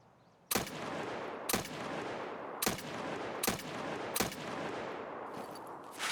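Heavy gunfire in the video game Escape from Tarkov, with five loud, sharp shots spaced about a second apart over steady background noise, followed by a fainter burst at the end.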